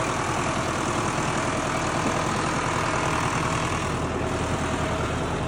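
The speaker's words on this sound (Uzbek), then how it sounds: "Traktorda o'zi yurib ketyapti" A tractor fitted with an IAS 100 autopilot unit drives itself across a field, its engine giving a steady, close, unbroken diesel drone throughout with no voices.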